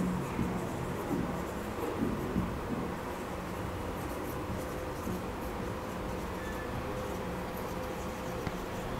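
Marker or chalk writes on a board during an accounting lesson. Light scratching strokes come in short bursts over a faint background hiss, with no voices.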